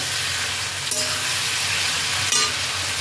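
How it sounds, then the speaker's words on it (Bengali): Mixed vegetables simmering in water in a pan for a five-vegetable curry, with a constant bubbling hiss and two brief clinks or stirs partway through, close by and without speech. "সবজিগুলো বেশ সুন্দরভাবে সিদ্ধ হচ্ছে।"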